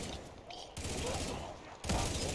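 An M60 light machine gun firing in Black Ops 3 Zombies, a dense continuous rattle of automatic fire with game noise, swelling louder in the final half second.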